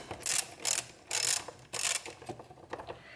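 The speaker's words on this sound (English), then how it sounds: "I'm gonna start here, loosen that clamp up nice." A hose clamp is loosened by hand during installation of a short ram intake on a Kia Stinger GT2, giving four or five bursts of close, crisp ratcheting clicks separated by brief pauses.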